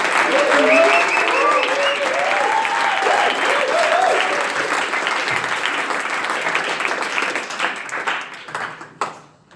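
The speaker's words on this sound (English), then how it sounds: "give a big shout out and a big applause again to all of our teams" Audience applause and cheering for the teams at a Startup Weekend Fintech closing ceremony in Geneva, full and lively with raised voices early on, thinning into scattered claps before fading out.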